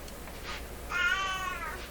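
A pet cat named Shadow gives a single drawn-out meow at moderate distance in a quiet room, preceded by a softer faint vocal sound.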